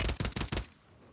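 WSP 9 submachine gun fire in Call of Duty Rebirth Island: a short, fast burst of about five sharp shots in quick rhythm, close and punchy, then cutting off into quiet.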